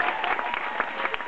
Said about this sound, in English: When you turn around, the crowd will go crazy for Chloe!